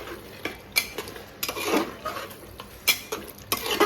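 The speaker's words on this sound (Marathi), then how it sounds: "सगळ्या पीसला मसाला लागला पाहिजे असं हलवून घ्यायचं आहे आपल्याला" A metal spoon stirs chicken pieces coated in masala in a pan for chicken smoked sukka, with irregular scraping and clinking against the pan's sides and a few sharper taps, over a faint background hiss.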